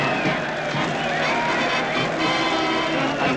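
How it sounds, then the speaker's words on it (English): A large crowd waving and cheering at a marina, a dense, continuous roar of many voices and babble at steady loudness throughout, with no single voice standing out. "And look at that mob waving and cheering."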